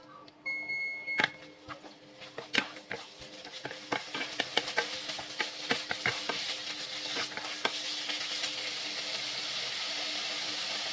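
Chicken pieces frying and sizzling in a pan while being stirred, with a steady hiss that builds and many sharp scraping and clattering knocks, close and fairly loud, with no talk.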